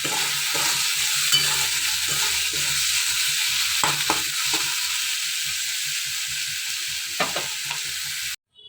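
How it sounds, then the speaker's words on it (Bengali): Chopped onion frying in a pan, a steady broadband sizzle filling the whole stretch with scattered scrapes of stirring, close and fairly loud, no voices, cutting off abruptly near the end. "তো সেই পেঁয়াজটা একটু ভাজা করে নেব"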